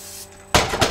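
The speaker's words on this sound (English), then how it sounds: "I'm just going to spray this canola oil in the bowl." Canola oil sprays into a mixing bowl to grease it for honey wheat bread dough, a short, close, bright hiss that bursts in after a quiet moment and lasts under half a second.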